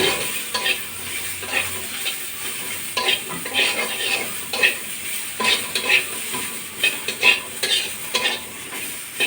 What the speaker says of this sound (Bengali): খালি কড়াইতে একটু নাড়াচাড়া করে নিচ্ছি